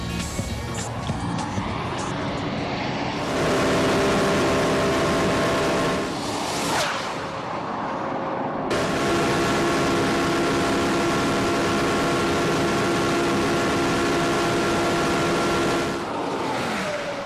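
A Porsche Carrera GT races a lap on a track, its engine a loud sustained roar climbing through the gears with sharp shifts and a brief drop before it winds up again at high speed.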